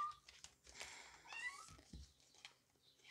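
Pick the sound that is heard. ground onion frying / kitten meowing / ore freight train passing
kitten meowing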